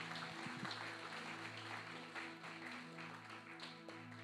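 Church congregation applauding the Lord, steady clapping throughout over sustained organ-like tones, fairly faint and continuous.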